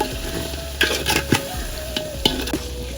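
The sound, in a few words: potatoes frying in a pot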